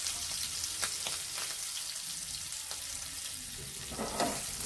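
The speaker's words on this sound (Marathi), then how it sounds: "जिरे फुलले का त्यामध्ये आपण जी हिरवी मिरची कट करून घेतली बारीक ती टाकायची" Finely chopped green chilies crackle and sizzle in hot oil with bloomed cumin seeds for a samosa filling, a steady close frying hiss with occasional sharper pops and no voices.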